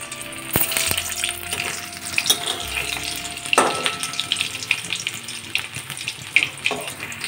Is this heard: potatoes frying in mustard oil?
yes